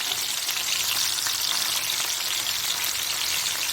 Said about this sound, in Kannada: ಹೀಗೆ ಮೀನು ಫ್ರೈ ಆಗಲಿ